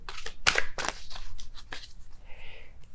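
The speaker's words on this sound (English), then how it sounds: "I'm going to be shuffling until I have a popping card here" Tarot cards are shuffled by hand close up, a series of quick papery flicks and riffles, with a softer brushing sound toward the end.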